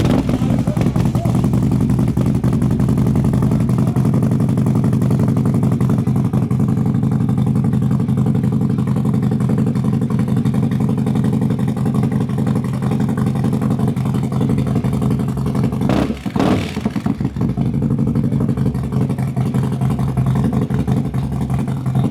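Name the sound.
motorcycle engine revving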